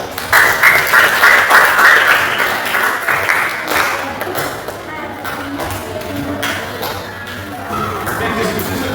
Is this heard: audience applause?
yes